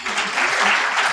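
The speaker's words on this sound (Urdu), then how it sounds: "اس بات پر ذرا تالی بجا دیں پلیز" A seated audience at a university dialogue event breaks into applause, a dense burst of clapping that holds steady for about a second.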